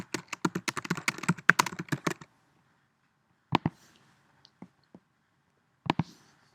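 Someone types on a computer keyboard in a quick run of close, crisp key clicks, then pauses and strikes a few isolated keys in a quiet room.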